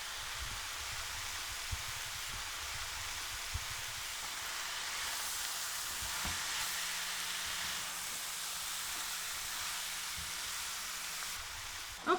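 Meat browning in a pan alongside carrots, onions and garlic for shepherd's pie, a soft continuous sizzling hiss at low level with occasional faint clinks, steady throughout the stretch.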